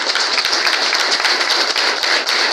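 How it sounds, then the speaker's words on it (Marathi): An audience at a Marathi community gathering claps together, a dense crowd applause of many overlapping hand claps with sharper individual slaps, steady and fairly close. "सगळ्यांनी जे लांबूनचे पदाधिकारी आहेत त्यासाठी सगळ्यांनी टाळ्या वाजवायच्या"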